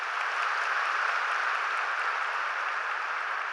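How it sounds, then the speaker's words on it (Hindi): Steady, dense clapping from an audience at a spiritual welcome session, holding an even loudness throughout with no voices over it. "जोर से तालियां बजाइए"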